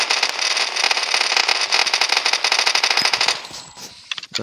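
Rapid automatic gunfire from a weapon mod in Minecraft Bedrock, a loud dense burst of shots lasting several seconds before breaking into a few scattered final rounds.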